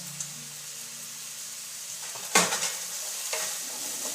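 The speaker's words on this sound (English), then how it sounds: "I'm cooking it in a little cold-pressed extra virgin olive oil" Chopped red onion frying in a little cold-pressed extra virgin olive oil: a steady, close sizzle with a sharper stirring scrape midway and a few softer scrapes after, no voices.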